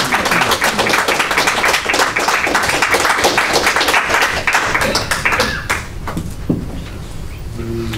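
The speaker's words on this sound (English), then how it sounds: "I don't think that we need to do a lot of applauding or holding up signs" Audience applause at a town council meeting, dense steady clapping from many hands filling the room, then thinning out into scattered claps toward the end.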